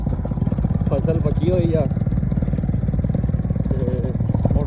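A motorcycle with a broken cylinder runs close and loud, a constant rough, buzzing drone under a man's speech.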